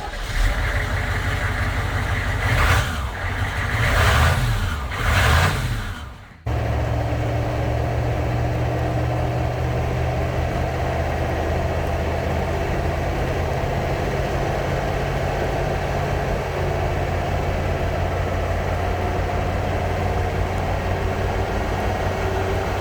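A 1994 military Hummer runs with a loud, steady low engine drone; an opening stretch of surging, wavering noise cuts out sharply, then an even rumbling hum continues for a long while.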